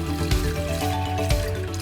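Water poured into wholemeal bread dough with salt during mixing, a continuous wet pouring and sloshing sound close up for under two seconds, with no talk.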